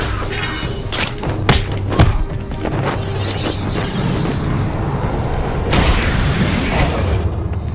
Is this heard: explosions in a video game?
yes